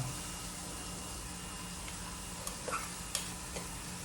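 Pork neck stir-fries in a pan with onion flowers, giving a faint, even sizzle broken by a few light clicks and taps from the utensil, with no talking.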